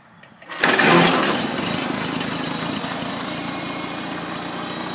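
A 1951 Farmall Cub tractor's small engine catches after a brief crank and roars up loudly, then settles into a steady, slightly quieter idle that runs on close by.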